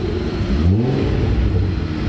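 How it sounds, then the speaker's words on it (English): A VW Mk4 with a VR6 engine and a freshly swapped intake manifold revs while driving, a loud, close, smooth engine drone that climbs in pitch and holds steady throughout. "The Vr6 sounds so good, and it just runs and pulls like so smooth."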